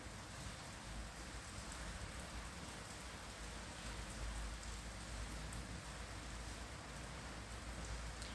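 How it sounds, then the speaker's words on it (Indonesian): Heavy typhoon rain pours steadily in Kaohsiung, Taiwan, a dense, even hiss of drops hitting surfaces that carries on unbroken and fairly faint, with no one talking. "masih hujan dan masih ada angin kencang ya sahabat onlineku"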